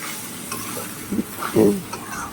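Chicken ghugni with chickpeas being stirred in a pan, soft spoon scrapes and stirs over a low, steady sizzle, close and fairly quiet.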